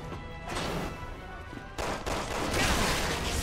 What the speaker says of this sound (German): Von wo wurde ich denn gerade angeschossen?